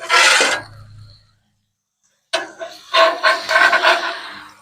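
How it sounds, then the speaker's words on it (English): A metal spatula scrapes smash burgers off a hot griddle in loud, rough bursts, with a short scrape, then a pause of silence, then a longer run of close scraping. "So we're going to take our spatula now."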